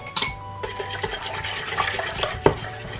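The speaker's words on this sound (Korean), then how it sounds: "물과 밀가루 넣고 잘 풀어준 다음에 중불에서 끓여주세요." A utensil stirs water and flour together in a pot to make a porridge-like paste, giving a close, continuous scraping and swishing with a few sharper knocks against the pot.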